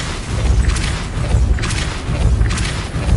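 The Depulso repelling spell in Hogwarts Legacy goes off as repeated whooshing blasts, three bright bursts about a second apart, each over a low booming rumble.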